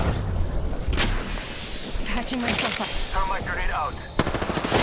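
Rapid video-game gunfire rattles in bursts over a dense background of game sound effects, with a loud crack near the end; no talk can be made out.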